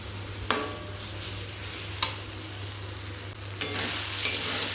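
Spice masala for mutton being stir-fried in a pan, a steady low sizzle running throughout with a few sharp scrapes of the spoon against the metal, close and alone.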